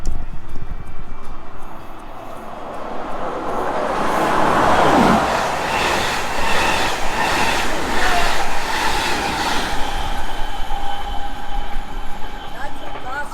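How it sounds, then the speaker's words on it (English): Fast train rushing through a railway station, a broad loud roar of wheels on rails that swells and holds for the whole stretch, with people chatting over it. "That's a fast train."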